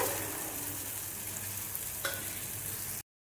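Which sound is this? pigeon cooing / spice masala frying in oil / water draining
spice masala frying in oil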